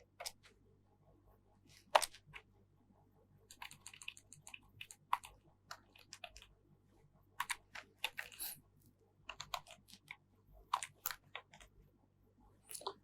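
Code being typed on a computer keyboard, with quiet irregular key clicks in short runs and pauses over a steady low background hum.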